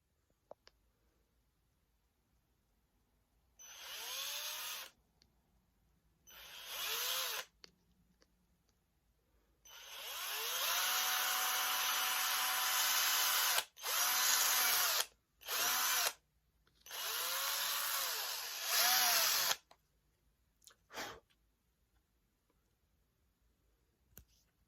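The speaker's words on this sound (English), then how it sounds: "I have my drill here" A handheld power drill whirs in several bursts, some short and one long sustained run with pitch shifts as it bites, separated by silent pauses and a few clicks, close and loud.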